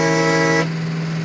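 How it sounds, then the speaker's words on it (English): An air horn on an old military truck gives one loud, close, sustained blast lasting about half a second, then cuts off into a low idling engine hum. "I have too much fun with the air horn."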